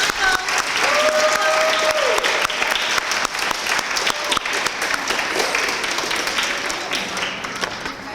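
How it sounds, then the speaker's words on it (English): An audience at a school awards assembly applauds, a loud sustained burst of crowd clapping that slowly thins toward the end, with faint voices mixed in. "Let's give them another round of applause."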